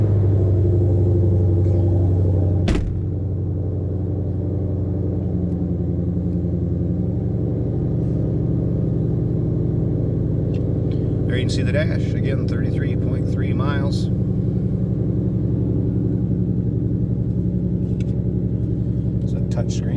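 A 2022 Ford Mustang Shelby GT500 Heritage with carbon fiber track pack idles with a steady, deep low rumble that keeps on throughout, while someone talks over it.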